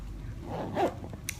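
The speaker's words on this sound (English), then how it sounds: "I don't want to snag the zipper or anything." A zipper on a large knitting bag gives one short, quick zip as the bag is handled, close and moderately loud over a low background rumble.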